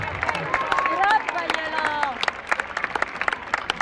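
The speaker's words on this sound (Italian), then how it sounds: "Tutti questi vostri applausi Cartello, mi tagliano il fiato." A crowd gathered in an Italian public square applauds, clapping dense and close at first, then breaking into scattered individual claps, with cheering and voices calling out over it.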